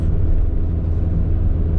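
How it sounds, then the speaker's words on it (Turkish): Car towing a loaded caravan straining up a hill, heard from inside as a loud, steady low engine drone and road rumble that holds constant without pause. "Araba biraz zorlanıyor yokuş yukarı."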